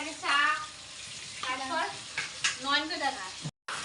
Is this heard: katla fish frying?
yes